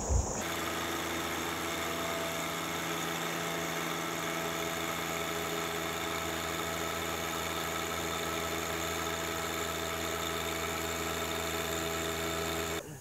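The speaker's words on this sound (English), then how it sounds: "we got one more tractor, Deere 1025R" A Deere 1025R compact tractor engine runs steadily under load on a PTO dynamometer, a constant loud droning hum with mechanical whine and vibration, holding even throughout with no talk.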